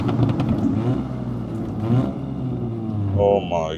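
A turbocharged 400 bhp Audi S3 engine revs and hums up close from inside the car on back roads, pitch rising and falling, with pops and bangs and a person talking over it.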